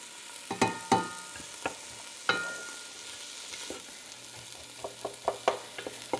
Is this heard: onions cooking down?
yes